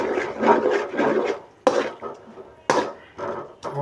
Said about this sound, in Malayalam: എന്നിട്ട് നമുക്കൊന്ന് ഇളക്കി കൊടുക്കാം